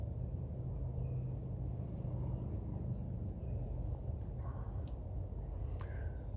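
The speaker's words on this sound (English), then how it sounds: "I don't know where all the birds are this morning. I hear some" Faint, scattered bird chirps ring out over a steady low outdoor rumble, a few short calls spaced apart.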